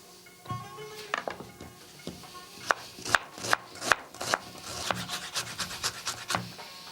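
Onion diced into small pieces with a knife on a board, a run of sharp, evenly spaced chops that start sparse and grow quicker and steadier, close and clear with no voices.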